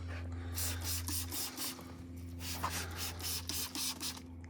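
QUIVR BREAK wheel and tire cleaner hisses from a trigger sprayer onto a car wheel in a quick run of repeated short bursts, close and fairly loud over a low steady hum.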